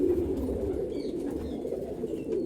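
Domestic pigeons of a home-bred flock coo steadily and close by, a low continuous murmur of overlapping calls with no voices.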